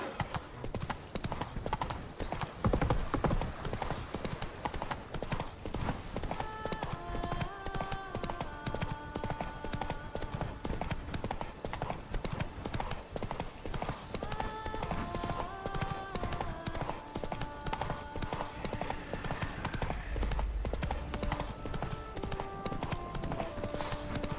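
Horse hooves clip-clopping in The Witcher 3, a steady rhythmic trot heard up close throughout, with game music layered underneath.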